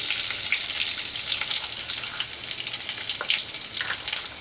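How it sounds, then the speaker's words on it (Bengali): Bay leaves, dried red chilies, panch phoron and cumin crackle in hot oil for a Bengali mixed-vegetable dish with prawns, a steady close, dense sizzle with bright popping throughout and no voices. "দিয়ে ফোড়নটা একটু ভেজে নেব"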